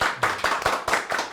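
A few people in a small audience clap at a Sundanese creative-economy podcast session, short uneven bursts of hand claps, close and fairly loud.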